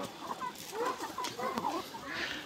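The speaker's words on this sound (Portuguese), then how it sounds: "Quantas galinhas mais ou menos você tem aqui, você sabe, Marinho?" A flock of more than a hundred hens on a rural Brazilian ranch clucks and murmurs continuously nearby, with overlapping short calls rising and falling.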